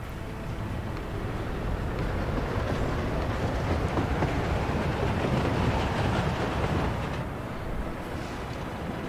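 A metro train runs through a tunnel in the city-building game Workers & Resources, a steady loud rumbling roar with faint clickety-clack, continuous and without talk.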